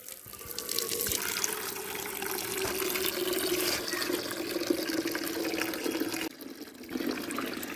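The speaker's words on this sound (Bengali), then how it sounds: "জল টানছে অনেক জোর, ফটফট ফটফট করছে, জলটা টেনে নিচ্ছে। ভালো করে গাছে জল দিয়ে দিই" Water gushes steadily from a tap or hose while plants are watered, a strong continuous rushing flow that dips briefly near the end.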